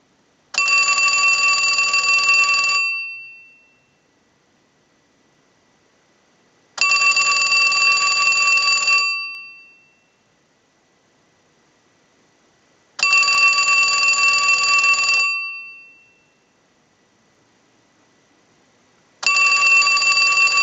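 A Western Electric 2554 wall telephone bell rings in four loud, evenly spaced bursts of about two and a half seconds each, separated by silent pauses, with no voices.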